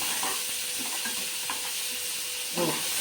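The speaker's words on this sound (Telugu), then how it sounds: "కొంచెం పసుపు వేద్దామండి. జస్ట్ కొంచెం అంటే కొంచెం లైట్గా కలర్ కోసం. ఇక్కడ పక్కకి వేస్తాము, మర్చిపోయినా. కొంచెం అంతే. ఇట్లా కలుపుదాం దీన్ని." A spoon stirs turmeric into a mixture in a pan for tiffin fritters, scraping and clinking a few times over a steady soft sizzle, close and without talk.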